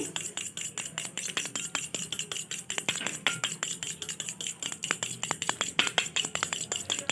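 A spoon stirring chili sauce in a bowl for veg Manchurian, rapid rhythmic clinks and scrapes of metal against the dish repeating steadily and close throughout.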